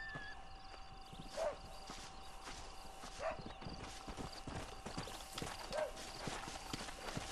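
A horse's hooves clip-clop at a steady walking pace in the video game Red Dead Redemption, faint and even, with a few soft snorts between steps and a thin tonal hum in the background.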